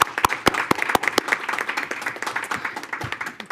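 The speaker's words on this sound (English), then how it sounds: "Let's just give a last round of applause." An audience gives a last round of applause at a school board meeting: a few sharp, distinct claps at first, then settling into a dense, steady patter of clapping that slowly thins.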